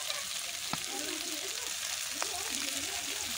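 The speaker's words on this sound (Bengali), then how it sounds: "বেশ সুন্দর করে মশলাটা কষিয়ে কিন্তু আমি আলুগুলো দিয়ে দিলাম।" Potatoes sizzle steadily in a pan of spice paste made from dried chilli, garlic, ginger and radhuni, a continuous close fry with a couple of sharp stirring clicks.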